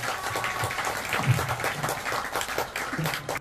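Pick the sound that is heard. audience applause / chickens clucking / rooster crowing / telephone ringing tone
audience applause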